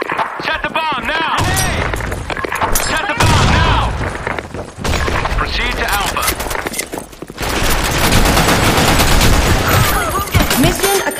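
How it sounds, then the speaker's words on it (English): Video game gunfire rattles in dense, loud, sustained bursts of automatic shots and booms during a city mission, nearly continuous with short lulls. "Give me some cover fire!"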